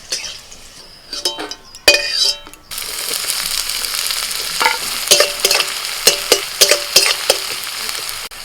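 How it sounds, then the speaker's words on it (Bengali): Garlic cloves and dried red chillies frying in hot oil, loud crackling sizzle after a few initial clatters and scrapes of a spatula, with intermittent stirring clicks over the steady hiss. "তেলের মধ্যে কয়েকটা রসুন শুকনো লঙ্কা কুমড়োর ভর্তা বানাবো তার জন্য রসুন আর লঙ্কাটা ভেজে নিচ্ছি"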